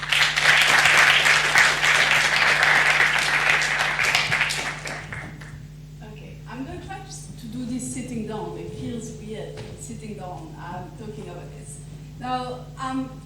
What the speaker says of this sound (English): maybe I think you should greet her with a round of applause